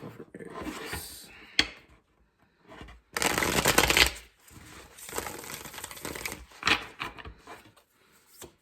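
Tarot cards are shuffled close up in a couple of loud, crisp riffling bursts with softer rustles between them, with no talking over them.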